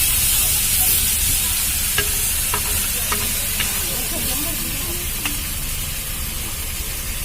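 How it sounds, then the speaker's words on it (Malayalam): Crab and mackerel fry at a beach food stall, making a steady, dense sizzle and hiss of hot oil throughout, with a few faint clinks and scrapes of utensils near the pan. "ഇവിടെ ഫ്രഷ് ആയിട്ട് ക്രാബ് മറ്റേ അയിലമീൻ എല്ലാം നമുക്ക് ഫ്രൈ ചെയ്ത് തരും"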